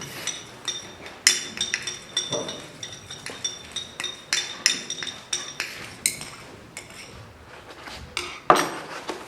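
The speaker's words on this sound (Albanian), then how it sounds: "Pasi e vendosim glukozën, ne e përzijem derisa të tretet." A spoon stirs glucose into water in a glass, clinking in quick irregular taps against the sides over several seconds, with a few louder knocks.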